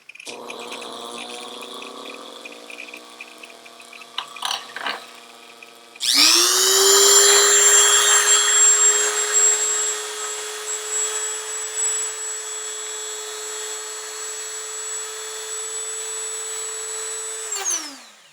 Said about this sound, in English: When you're done grinding down the dart shaft, you don't have to grind it down all the way